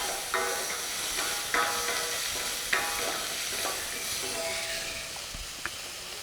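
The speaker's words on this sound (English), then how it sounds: "Then you stir." Garlic stirred and sizzling in a hot pan for Saint Germain soup: a steady frying hiss broken by several sharp scrapes of the spoon, close and clear, with no talking.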